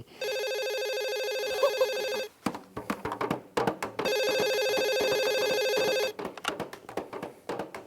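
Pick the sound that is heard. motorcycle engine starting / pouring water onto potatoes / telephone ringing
telephone ringing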